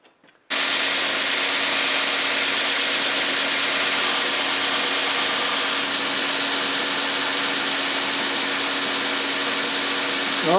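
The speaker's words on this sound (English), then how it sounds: "we're going to go to a 120 belt on the belt sander here and enlarge it up" A belt sander running a 120 grit belt on a part from a 20-year-old Snapper rear-engine riding lawnmower starts abruptly and holds a loud, steady broadband whir with a constant hum for about ten seconds, close and without talk.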